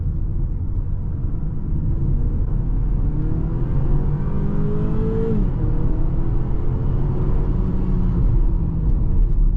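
A 2023 BMW X4 30i engine revs high and steady in Sport Plus mode while merging, with rising and falling tonal whine over a continuous loud rumble, close by and without talk.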